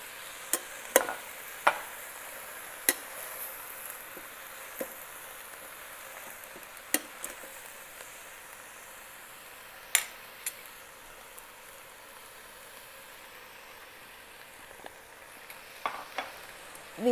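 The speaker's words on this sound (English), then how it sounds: "Let's add greens little by little" Collard greens and vegetables stirred in an Instant Pot for Indian-style greens, with scattered sharp scrapes and clinks of a spoon against the pot over a soft, steady sizzle, close and alone.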